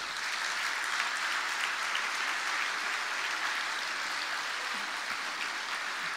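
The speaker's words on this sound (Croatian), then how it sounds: "Pozdravimo ih sve zajedno jednim velikim pljeskom." A large audience claps as one at a political campaign programme presentation for Kolinda Grabar-Kitarović. The applause is a continuous, even wash of clapping that holds at the same loudness throughout, with no voices rising above it.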